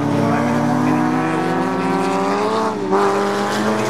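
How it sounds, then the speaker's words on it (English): A loud, sustained racing-car engine roar with strong harmonic whine, including a V8 Westfield, shifting pitch slightly as it passes the track at Cadwell Park, with no voices. "39-year-old Darren Berris at the wheel of a V8 engine Westfield that continues to lead the race"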